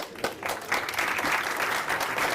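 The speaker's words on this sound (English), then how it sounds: "we'll just wait till they sit down, and then I'll give you a big clap." A conference audience at a programming talk breaks into applause, clapping building quickly after a few scattered claps and holding as a steady, moderately distant wash.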